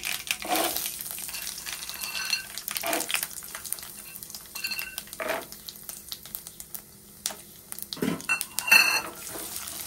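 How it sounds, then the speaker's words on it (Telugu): Peanuts go into a pan of hot oil with cumin and mustard seeds, giving a soft background sizzle under sharp metal clatters and scraping stirs that come every few seconds, close and fairly loud, with no talking. "ఇప్పుడు ఇందులోనే పల్లీలు వేసుకోవాలి."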